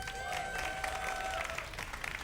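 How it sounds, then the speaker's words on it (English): A crowd at a DreamHack StarCraft esports tournament cheers and claps steadily throughout, with a faint tonal squeal near the start. "give a cheer for your Korean superstar"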